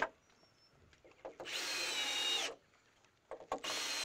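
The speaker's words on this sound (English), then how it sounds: "we're going to be using 2 of these 3-inch exterior grade wood screws" Power drill driving 3-inch exterior-grade wood screws into a deck joist on an above-ground pool deck, one sustained whirring run of about a second, then a short burst and a second run starting near the end.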